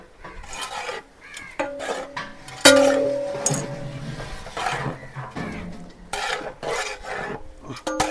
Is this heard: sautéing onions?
yes